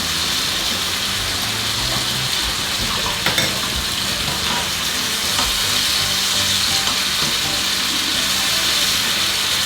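Soy sauce hits a pan of fish meunière tomato sauce, bubbling down as the tomatoes soften, giving a steady, dense sizzle and frying hiss that runs unbroken throughout with faint stirring clicks.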